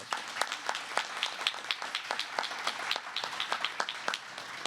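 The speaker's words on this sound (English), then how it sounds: "Give yourselves a round of applause." Audience applause at a naturalization ceremony welcoming sixteen new Americans, a steady patter of many hands clapping at moderate volume from a mid-sized crowd, continuing evenly throughout with no talk over it.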